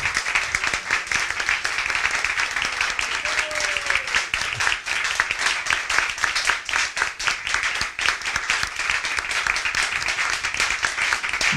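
An audience hearing a Srimad Bhagavatam reading claps at length, brisk individual hand claps forming a lively, fluctuating applause that runs the whole time, with a brief voice briefly audible amid it.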